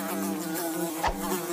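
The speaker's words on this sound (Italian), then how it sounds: "Una mosca! È enorme!" A large fly buzzes near the listener indoors, a continuous droning hum that holds steady, with a brief dull bump partway through.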